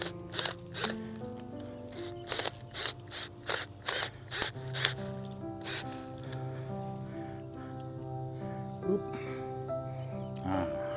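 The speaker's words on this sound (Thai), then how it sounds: "อันไหน ไม่ตึงเราก็ขันให้มันตึงขึ้น" A turnbuckle on a guava trellis wire is turned with a socket to tighten it, giving a run of sharp, close ratcheting clicks in quick bursts before the sound settles into fainter mechanical ticking.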